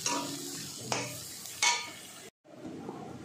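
Grated coconut frying in a pan, stirred in short strokes with a utensil clinking and scraping the metal over a faint sizzle, then a brief cut to quiet frying.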